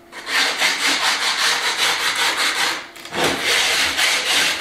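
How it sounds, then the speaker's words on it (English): Wooden stiffeners being sanded by hand with sandpaper during a renovation, loud close rhythmic rasping strokes in a steady back-and-forth pattern, with a brief pause near three seconds before the scrubbing resumes. "Nothing fancy, just a bit of sandpaper."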